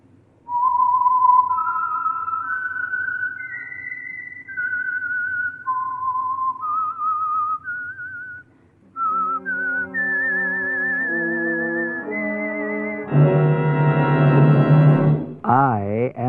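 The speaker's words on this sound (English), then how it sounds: "the signal to listen for is this whistle that identifies the Signal Oil program, The Whistler" The signature whistle of the radio program The Whistler rises and falls through a short eerie tune, followed by sustained orchestral chords and a wavering, swelling tone.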